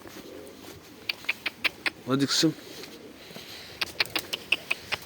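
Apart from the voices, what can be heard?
pigeons cooing and flying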